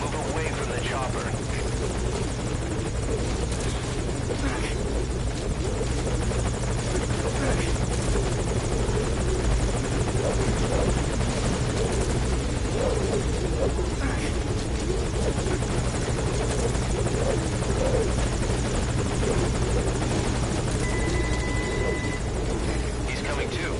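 A support helicopter from the video game Metal Gear Solid Ground Zeroes drones loudly and steadily nearby, its rotor throb constant for the whole stretch, with radio voices talking over it.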